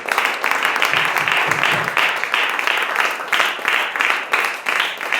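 A church congregation claps together in a dense, steady burst of applause that carries on throughout at an even, fairly loud level.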